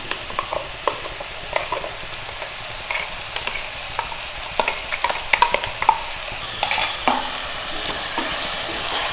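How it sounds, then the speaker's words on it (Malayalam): Ground masala for sukha chicken sizzles and fries in a pan while a spoon stirs it, giving irregular scraping clicks over a steady hiss, with a busier burst of stirring toward the end. "ഇതെല്ലാം കൂടി നന്നായിട്ടൊന്ന് മിക്സ് ചെയ്ത് കൊടുക്കുക ആദ്യം"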